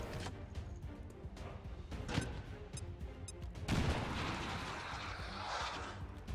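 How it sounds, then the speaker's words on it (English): Weapons fire and explosive impacts from the XCOM 2 video game: a series of sharp cracks and a heavy blast over a rumbling battlefield bed, fairly loud and with no talking. "Then that exposes the sectoid to gunfire."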